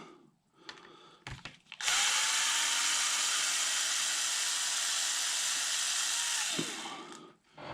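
A power tool, likely a drill or driver, runs steadily for about five seconds while backing out 2.5 mm bolts from a Traxxas Maxx RC truck, with brief shorter bursts before and after the main run.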